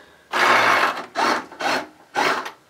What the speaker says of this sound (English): I'm just going to run that with a motor, which also works